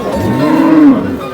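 A cow with her calf at a village cattle market gives a single loud, low moo lasting about a second, close by.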